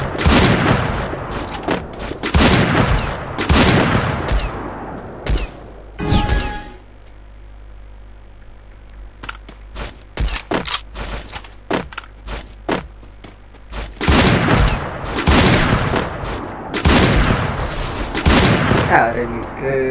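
Sniper and M2 gunfire in the Garena Free Fire video game, with loud shots and crashing bursts at the start and end around a quieter middle of scattered sharp cracks, while a player talks throughout.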